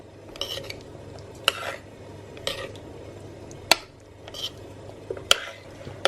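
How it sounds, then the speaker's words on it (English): A spoon stirring chocolate and butter as they melt in a bowl over simmering water, with soft scraping strokes and occasional sharp clinks against the bowl at irregular intervals, close by and with no talking. "I'm just going to keep a close watch of it and keep stirring it until all the chocolate and butter has fully melted"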